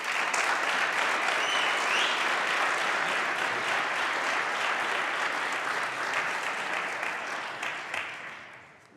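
Sustained applause from an audience in the Wabash College chapel welcoming Rev. Dr. P. T. Wilson, dense and steady throughout before tapering off toward the end.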